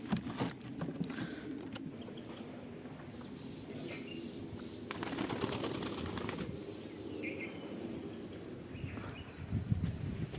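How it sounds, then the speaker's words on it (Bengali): Pigeons released from their coop on a bright morning after rain, wings flapping in a fluttering burst. The sound is faint and distant over a low outdoor rumble, with no talk. "আমি এখন আমার সব পায়রাগুলোকে খুলে দিচ্ছি"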